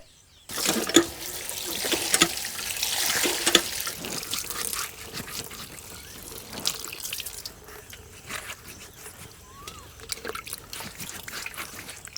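Ridge gourds are washed by hand in water, giving continuous splashing and trickling with brief clatters, close by, fading slightly toward the end.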